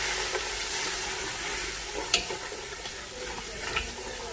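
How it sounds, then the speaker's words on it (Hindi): Beef sizzles and fries in a spiced masala in a pot, a steady hiss broken by a few sharp scrapes and clinks of stirring, with no talking. "अब इन मसालों में इसे तकरीबन 1 से 2 मिनट तक भूनेंगे।"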